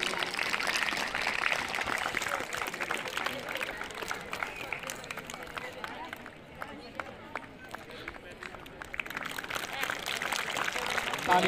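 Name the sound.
loud applause welcoming a guest at a farewell ceremony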